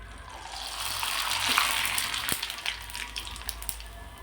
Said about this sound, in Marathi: आता हे तेल आपण निथळून घेणार आहोत आणि ह्या तळून घेणार आहोत